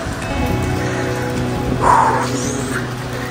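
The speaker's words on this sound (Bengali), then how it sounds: "চমৎকার বৃষ্টি শুরু হয়েছে" Steady rain falls at a lakeside resort restaurant on Kaptai Lake in Rangamati, a continuous close patter of drops on surfaces with a faint tonal background and a brief louder swell partway through.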